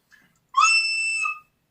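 A shrill, piercing squeal from an overblown recorder, one sustained high note lasting under a second, loud and close, preceded by a tiny faint puff.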